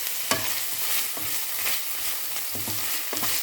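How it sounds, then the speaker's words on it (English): A spatula stirs minced pork frying in a pan. Close scrapes and taps repeat at an irregular rhythm over a continuous sizzle, with no one talking. "add 20 grams of minced pork and continue stirring until the meat is well cooked"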